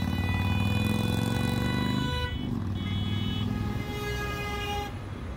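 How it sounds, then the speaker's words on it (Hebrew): Car horns on busy multi-lane Tel Aviv roads sound several sustained, overlapping tones at once, blaring loudly over the steady roar of heavy traffic for several seconds. "והצפירות מחרישות אוזניים."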